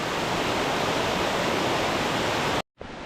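A mountain valley stream on Bukhansan flows in a steady, full rushing wash of water that stays close and constant before cutting off abruptly near the end.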